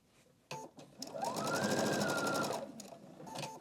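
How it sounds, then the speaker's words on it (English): A sewing machine stitches quilt strips together with quarter-inch seams, giving one close, even whirring run of about two seconds, framed by brief clicks of the machine before and after. "we stitch them together again with 1/4 inch seams"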